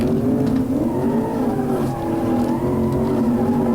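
An upgraded car engine in the BeamNG.drive driving game hums with a steady, loud tone whose pitch wavers slightly as the automatic car accelerates and cruises, running continuously with no talk.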